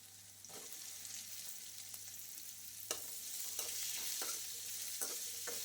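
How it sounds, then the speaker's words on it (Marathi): Cut okra tipped into a pan of frying green chillies, giving a steady, fairly faint sizzle with a few soft scraping stirs and light knocks, no talking. "कट करून घेतलेली जी भेंडी आहे ती टाकते।"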